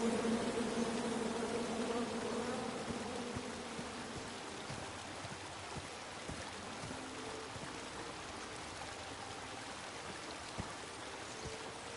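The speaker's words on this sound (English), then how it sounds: "Come at me, bees!" Bees buzz as a steady dense drone in the King's Quest video game, continuous and fairly close, fading slightly after the opening with faint ticking and clicking underneath.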